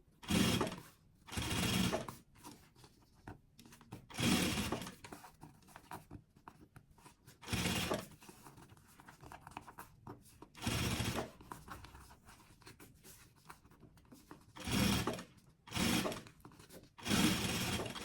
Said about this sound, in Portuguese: Aqui, onde encerra a costura, eu já posso vir fechando e costurando, pregando todo o meu material.